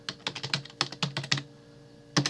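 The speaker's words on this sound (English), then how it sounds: "if you type in smAsho.org" Rapid clattering keystrokes as a web address is typed on a computer keyboard, quick bursts of clicks with a short pause before a final pair of taps, close and clear with no talking.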